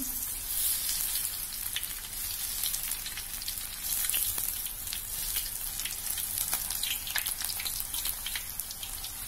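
Peanut crackers (peyek) fry in hot oil, giving a steady sizzling crackle with scattered sharp pops throughout, fairly soft and with no voices.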